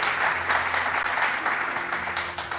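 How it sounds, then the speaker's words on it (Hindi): A studio audience on a TV morning show claps for an arriving guest, a full, lively burst of applause that stays strong and then gradually tapers slightly toward the end. "बहुत सारे तालियां उनके लिए।"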